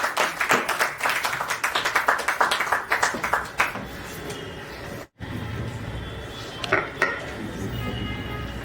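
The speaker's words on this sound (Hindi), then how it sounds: "एक बार जोरदार तालियां हो जाए।" Dense clapping from a crowd at an annual celebration event in the opening seconds, fading into a noisy room with scattered clinks and murmurs.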